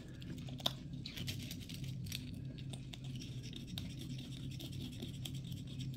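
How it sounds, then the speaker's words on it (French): A parrot crunches cornflakes with its beak, giving faint, quiet crackling and nibbling clicks that continue steadily at close range, with no talking. "parce que ça leur fait plaisir de s'amuser avec leur bec, de casser, de croquer"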